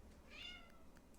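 A house cat in a kitchen gives a single faint, drawn-out meow, nearby but quiet, with no voices over it.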